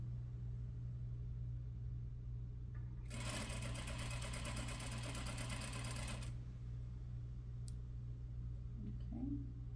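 An electric sewing machine stitches a pocket seam in one fast, even burst of about three seconds, set against a constant low mechanical hum, with faint clicks before and after.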